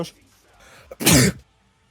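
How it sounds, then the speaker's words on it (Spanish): A single loud, harsh cough close up, preceded by a brief breathy sound. "perdonad por tener que toser"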